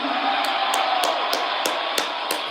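Wrestling crowd roaring and cheering for Shelton Benjamin, a dense continuous noise of many voices with rhythmic claps or stomps at regular intervals.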